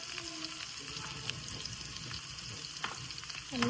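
Onion fries in oil in a frying pan while bottle gourd skin bhaji is being cooked. A steady crackling sizzle runs continuously, close and moderately loud, with a brief louder swell at the end.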